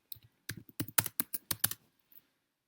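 Quick bursts of computer keyboard typing while entering a search in Canva, about a dozen close, crisp key clicks in an uneven rhythm, then a short pause and one last soft tap.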